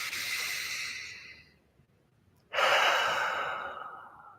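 Two slow, deep breaths during guided meditation, one long airy exhale fading out, then a short silence before a sharp, strong inhale that tapers away, close and clear with no talking.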